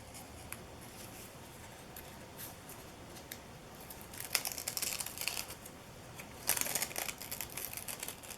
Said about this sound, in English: Now here is where I am peeling off that excess layer.